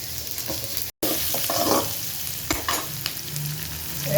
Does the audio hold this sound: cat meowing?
no